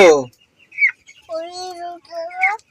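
A chicken gives a few soft clucks and a drawn-out, wavering call up close, following a short burst of a voice.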